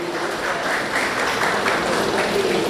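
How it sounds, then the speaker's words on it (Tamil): Audience at a Paramakalyani College alumni meeting applauding to welcome a guest onto the stage, a steady, dense clapping that holds at one level for the whole moment. "அனைவரும் பலத்த கரகோஷங்களுடன் அவரை மேடைக்கு அழைத்து வரும்படி"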